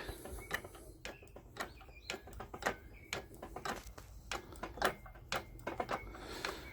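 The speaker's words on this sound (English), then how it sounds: "Flip this lever and pump the jack." An old hydraulic car jack being pumped by its lever gives off a quick series of faint metallic clicks and ticks at an uneven rhythm, close by and with no voices.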